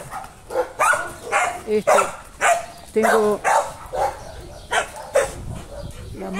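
A small female dog barks in short repeated bursts while tied up, eager to chase another animal, the yaps close and fairly loud, mixed with a person talking in Spanish outdoors in a garden.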